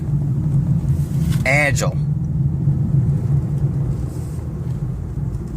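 A 2015 Infiniti Q50 accelerates through a curve with a steady, low engine rumble and road noise heard from inside the cabin, briefly under a single spoken word, then easing slightly.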